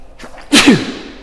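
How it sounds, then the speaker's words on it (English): A single loud sneeze bursts out after a soft intake of breath, sharp and close, then trails off into quiet. "One last sneeze for good measure."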